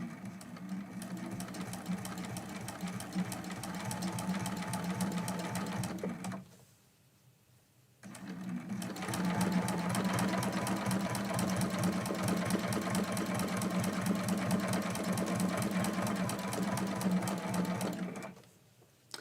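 A sewing machine stitching a Christmas quilt block hums with a steady, close, rapid needle rhythm for several seconds, pauses briefly, then resumes in a long continuous run before cutting off.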